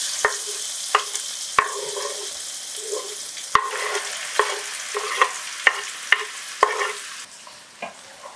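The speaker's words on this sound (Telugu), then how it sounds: "అట్లా కాగిపోయింది నూనె కూడా. ఆనియన్ మిర్చి వేసేద్దాం." Onion and green chili frying in hot oil for a crab curry hiss steadily, punctuated by sharp, repeated clacks of a spatula against the pan, close and clear.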